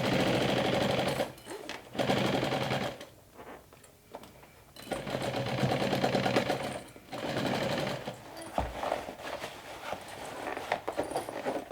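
A sewing machine stitches a handbag made from a backpack, running in loud bursts of rapid mechanical stitching separated by short pauses, close by with no talking.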